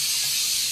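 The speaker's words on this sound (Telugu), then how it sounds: "ఇప్పుడు అల్లం వేసేసిండి అన్న." Ginger dropped into a hot pan at a dhaba kitchen gives a loud, dense, continuous sizzle, close and bright throughout the short moment.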